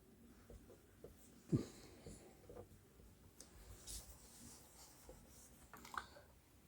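A prime factorization is written out by hand, a faint, sparse scratching of strokes with a few soft taps in an otherwise quiet room.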